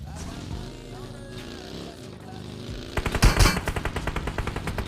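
Automatic gunfire in the BGMI battle royale video game bursts in around midway, a rapid loud rattle of shots following quieter game ambience and engine-like hum.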